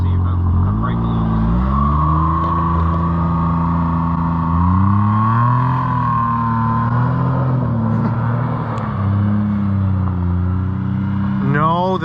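A two-wheel-drive John Deere Gator 835 side-by-side drives in a tight circle. Its engine hums loudly and steadily, rising and falling with the throttle, with a voice talking over it.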